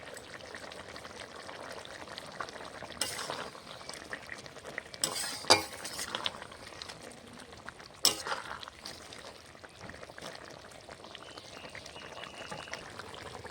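A potato, bitter gourd and small fish curry simmers in a pan while it is stirred, giving a low steady bubbling hiss broken by a few sharper scrapes and clinks of the spoon, close by and with no voices.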